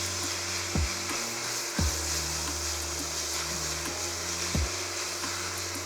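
Beef and pasta mixture fries in a pan with a quiet, continuous sizzle, broken by a few soft low knocks spaced a second or two apart.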